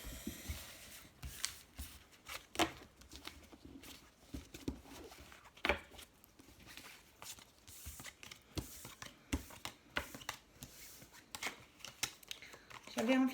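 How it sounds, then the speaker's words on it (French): Past-lives oracle cards are shuffled by hand in soft, irregular papery riffles and taps, quiet and close, with a voice speaking now and then. "J'avais envie de prendre l'oracle des vies antérieures. Je vais tirer 2-3 cartes"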